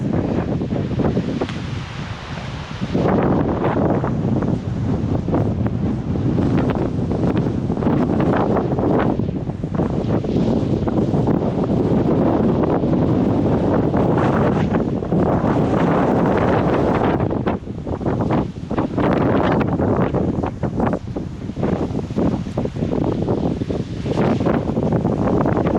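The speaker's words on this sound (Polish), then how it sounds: "ten wiatr to jest jakiś szaleniec" Strong, gusty wind roars into the microphone outdoors on a cold morning in Saltdal, northern Norway, a loud, continuous buffeting rumble with surging blasts and brief lulls, and no voices.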